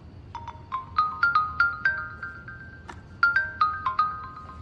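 A phone ringtone plays close and clear, a bright melodic chime of quick repeated notes in two short bursts, with no talk over it.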